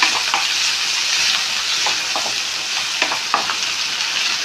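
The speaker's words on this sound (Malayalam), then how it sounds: "വെളുത്തുള്ളിയും ഇഞ്ചിയും ചതച്ചത് അപ്പൊ നമ്മൾ നന്നായിട്ട് ഫ്രൈ ആക്കണം" Crushed garlic and ginger with shallots fry in a pan, a steady close sizzle broken by occasional soft scrapes and stirs, with no voices.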